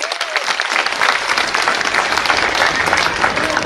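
Audience applause at a religious discourse during Brahmotsavam festivities, a loud dense burst of clapping that swells and holds steady throughout.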